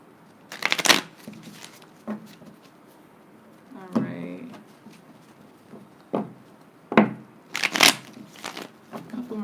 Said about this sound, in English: A couple more shuffles.